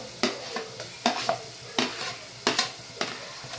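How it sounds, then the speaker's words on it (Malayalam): Ginger garlic paste stirred into softened onions in a pan while cooking a spicy bitter gourd stir-fry, with soft sizzling broken by a series of sharp spoon scrapes and taps, fairly close. "ഇനി നമുക്ക് ഇതിലേക്ക് കുറച്ച് ഇഞ്ചി വെളുത്തുള്ളി പേസ്റ്റ് ഇട്ട് കൊടുക്കാം"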